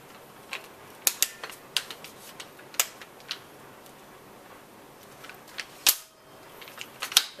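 Gunshots from a short-barreled rifle at an outdoor range in the Czech Republic, a scattered series of sharp, fairly faint cracks against quiet background, some spaced and some in quick pairs.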